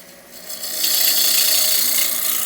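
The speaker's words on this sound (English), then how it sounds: "Let the lathe come up to speed, and very gently you'll go, and then you have a nice bevel contact." A gouge rides its bevel against a spinning piece of wood on a lathe, a steady airy scraping hiss that swells after a soft start and holds close and even for about two seconds.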